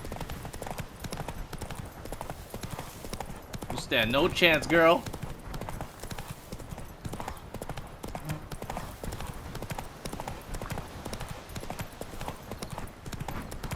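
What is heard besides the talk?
horse galloping in a race, from video game The Witcher 3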